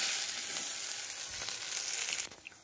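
Fried spice mixture for fish chop is stirred through fish in a pan, a loud, close, steady sizzle with soft scraping stirs, easing off sharply near the end, no voices.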